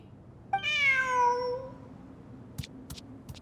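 A single drawn-out cat meow from the video game Genshin Impact, clear and fairly close, followed by a few soft clicks.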